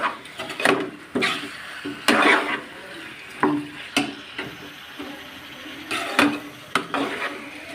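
A spoon clinks and scrapes against a cooking pot in a series of short, irregular knocks while spices are stirred and fried for a chicken and papaya curry, with faint sizzling between strokes and no talk.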